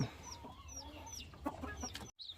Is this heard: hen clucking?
yes